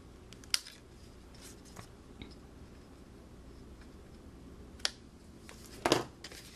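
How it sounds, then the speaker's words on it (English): Paper snips cutting paper card for a handmade onesie greeting card, a few sharp isolated snips spaced apart over quiet background, with a louder crisp cut near the end. "using my paper snips"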